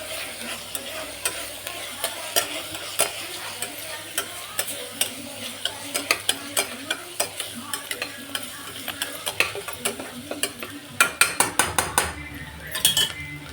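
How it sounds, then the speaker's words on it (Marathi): A spoon steadily stirs a coconut, chilli, garlic and ginger paste into masale bhat in a pot, with a rhythmic run of sharp metal clinks over a soft sizzle. The clinks get denser and louder toward the end. "त्याच्यात आपल्याला एक खोबऱ्याचं वाटण टाकून घेऊ"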